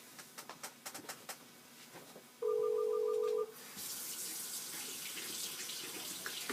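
A tap runs water while a contact lens is rinsed, a steady close splash starting partway through after a few soft clicks and a brief electronic tone.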